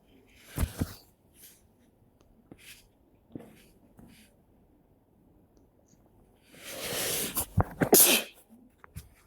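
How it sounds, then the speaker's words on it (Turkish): Someone with a cold sneezes: a sharp sneeze early on, a few small sniffs and breaths, then a louder drawn-out sneeze near the end, close and clear over near silence while a Minecraft game is played. "Hastayım. Hapşırıyorum."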